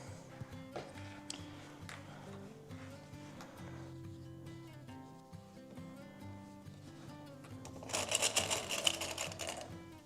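A sewing machine runs fast, stitching quilt pieces for a flag quilt, its whirring steady at low level and then rising louder toward the end of the stretch.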